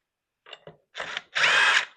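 An impact wrench works a 13 mm nut on a Stihl 031AV chainsaw, giving two short blips and then two longer bursts of loud, close tool noise with no talk.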